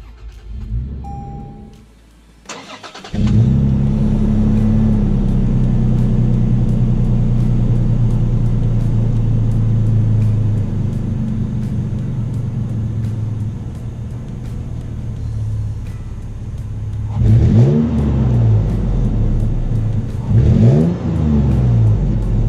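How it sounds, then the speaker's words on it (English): A loud, steady engine exhaust drone from a driving Toyota 4Runner TRD Pro SUV, rumbling continuously after a brief start, with surges of revving near the end. "do hear the exhaust in this thing, and it's noticeable the whole time you're driving it"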